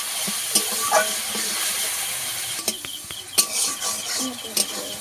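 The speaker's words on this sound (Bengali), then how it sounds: "পেঁয়াজটাকে ভালো করে একটু ভেজে নেব দু মিনিটের মতো" Onion paste fries in a pan for a Bengali lota fish and taro curry, giving a steady close hiss with scattered spoon scrapes and clinks against the pan.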